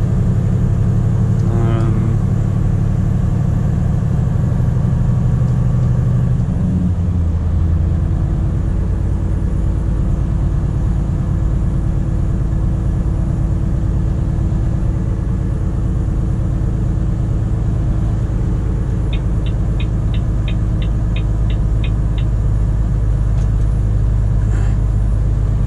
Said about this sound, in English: I have a new generation Volvo FM 460 with me today